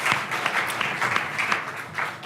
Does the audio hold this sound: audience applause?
yes